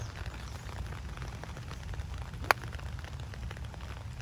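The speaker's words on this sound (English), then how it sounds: "And the rain's picking up now." Rain falls steadily on the Tam O'Shanter golf course in Illinois, a constant even hiss with no talk and one sharp, isolated tap partway through.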